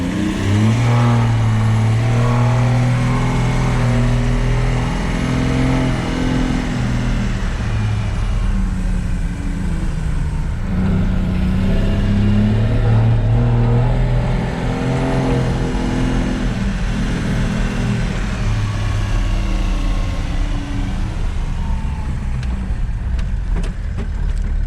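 A FJ75 Troopcarrier fitted with a 300hp M57 engine drives along in third gear with a loud, continuous, droning engine roar from inside the cab. The pitch shifts gently with throttle throughout.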